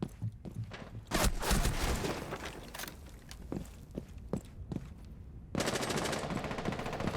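Rapid automatic gunfire in the multiplayer shooter Rainbow Six Siege, sharp repeated bursts of shots mixed with scattered footsteps, followed by a steady louder rattle near the end.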